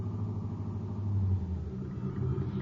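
Radio drama effect of a four-door sedan pulling into a driveway: a steady low engine rumble idling close by, swelling slightly midway and settling again, with no voices.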